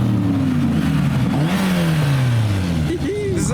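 A Chevrolet C8 Corvette revs loudly at a street car meet, its engine note sweeping up and down in steady pulls over a constant rumble of idling cars, with voices talking underneath.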